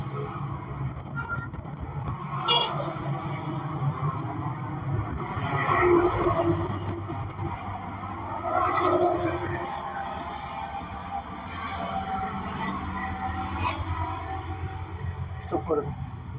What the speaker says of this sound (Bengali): আমাদের গাড়িটা পার হয়ে যাচ্ছে আপনার রাজপথে।